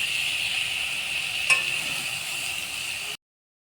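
Liquid sugarcane jaggery bubbles and hisses in a pan while being stirred, a soft, even sizzle with one brief clink of the utensil before the sound cuts off.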